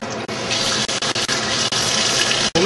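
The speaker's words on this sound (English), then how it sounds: "We're going to add 6 cups of boiling water." Boiling water is poured into a pot for mac and cheese, a steady close gushing splash with a few brief breaks as the stream is interrupted.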